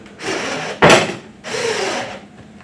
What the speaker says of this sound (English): So now we will drill all the way through.